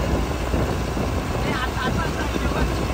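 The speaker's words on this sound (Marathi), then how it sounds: "मित्रांनो आता काना काकाची रिक्षा आली बघा." An auto rickshaw engine drones steadily as it arrives nearby, a continuous low rumble that masks most other sound for the whole moment.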